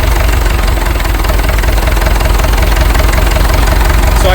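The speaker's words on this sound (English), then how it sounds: "Did you hear the engine?" An old International TD-6 tractor's gasoline engine idles steadily and loudly up close after being freed from a locked-up state, a rough, rapid chugging with a slight knocking rhythm throughout.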